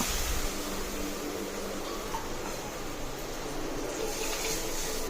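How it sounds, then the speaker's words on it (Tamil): Water is poured into a pan for rava upma after tomatoes have been sautéed, a steady continuous gushing that runs unbroken for the whole stretch, fairly close and alone. "இப்போ தேவையான அளவு தண்ணி ஊற்றணும்."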